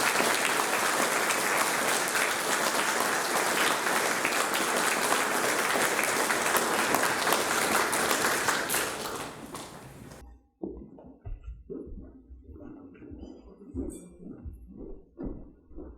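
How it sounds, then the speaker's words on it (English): A school prize-giving audience applauds a group of Year 8 boys, with loud, sustained clapping for about ten seconds that then breaks off abruptly, followed by scattered handling noises and room sounds. "Let's give these boys a round of applause."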